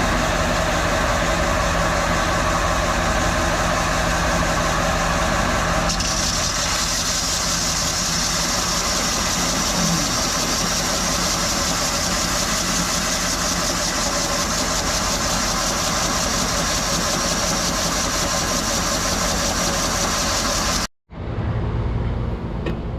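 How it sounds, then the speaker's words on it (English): A belt sander grinds the face of an exhaust manifold from a Chevrolet S10 2.2 engine, producing a continuous loud, broadband whir and rasp that shifts slightly partway through, then cuts out abruptly and briefly near the end. "let's get this belt sander fired up and we'll resurface this exhaust manifold."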